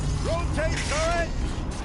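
A turret's rotating mechanism grinds and whirs in the video game Horizon Zero Dawn, with short rising mechanical tones over a steady low rumble.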